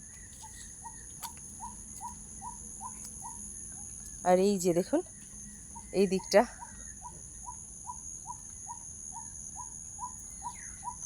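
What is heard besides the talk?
birds singing among green trees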